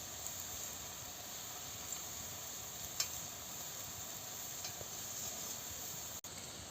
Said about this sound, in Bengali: কি সুন্দর লাল লাল করে আমি ভেজে নিচ্ছি।